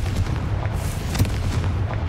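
A fire-blast spell explosion in the video game Hogwarts Legacy, a dense roaring burst over steady low rumble with a sharper crack near the middle, loud and continuous for about two seconds.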